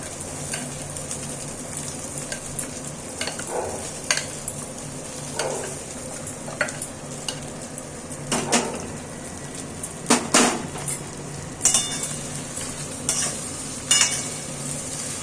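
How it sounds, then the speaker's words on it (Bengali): Gentle frying sizzle of flattened rice with chopped ginger, under repeated stirring scrapes and occasional metallic taps of a utensil against the pan. "একটু আদা কুচিটা একটু ভাজা ভাজা হচ্ছে। এখন আমি চিড়েগুলো আস্তে আস্তে দিয়ে দিচ্ছি।"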